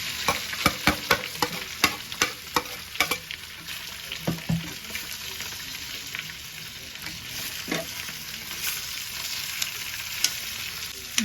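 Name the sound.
spiced potatoes frying with mustard seeds in a kadhai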